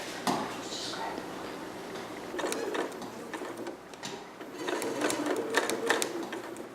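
A sewing machine runs a long basting stitch at length 5, stitching over a previously sewn line on a Vogue 8280 garment; short mechanical bursts of needle clatter start and stop, fairly close, with a pause midway.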